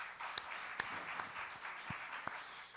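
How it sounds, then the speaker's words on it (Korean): Faint applause from a seminary lecture audience welcoming two students, a soft continuous patter of clapping heard from a distance with a few sharper individual claps standing out. "여러분 한번 박수로 환영해 주시고"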